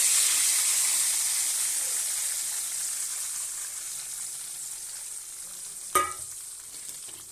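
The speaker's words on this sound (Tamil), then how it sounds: "இப்போ புளியை கரைச்சி ஊற்றுறேன்." Tamarind water is poured into a hot sizzling pan, giving a steady frying hiss throughout and a brief sharp splash-sizzle burst near the end.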